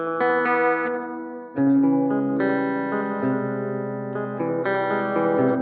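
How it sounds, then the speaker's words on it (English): Sustained electric guitar chords ring out through a flanger doubler effect, swirling and doubled, a new chord struck partway through, no voices. "That's more like the flanger doubler sound."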